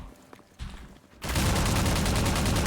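Rapid automatic gunfire from Half-Life 2 MMod, a dense, loud continuous burst of shots after a brief quieter lead-in.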